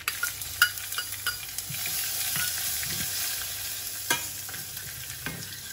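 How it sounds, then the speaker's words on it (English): Chili tempering in hot oil for khaman dhokla makes a light, steady sizzle close by, with scattered small pops and spatters throughout. "Just turn it down so it's light. Lightly sizzling."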